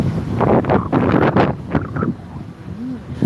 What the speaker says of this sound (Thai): อากาศเย็นจนหนาวเลยค่ะลมแรงมากเลย